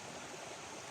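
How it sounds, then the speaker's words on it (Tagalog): Steady rushing flow of a river current in the outdoors, a continuous broadband wash with no talk over it, heard for about a second. "Yung agos ng tubig na yan."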